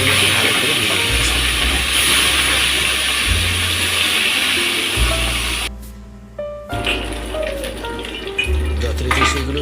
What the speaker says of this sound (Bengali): বাকি কাঁটাগুলোকে ভালো করে ভেজে নিচ্ছি